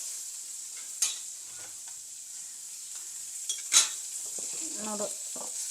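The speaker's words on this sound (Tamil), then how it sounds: "இப்போ இதில் முருங்கைக்காவை சேர்க்க போகிறோம்" Drumsticks (moringa pods) drop into a hot pan with a few clattering knocks and scrapes over a constant sizzle of frying oil.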